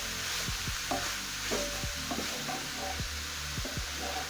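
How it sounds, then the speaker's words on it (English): Cabbage and meat frying together in a pan, stirred in repeated scraping strokes over a continuous loud sizzle, with no voices. "Then I'm going to stir in the cabbage"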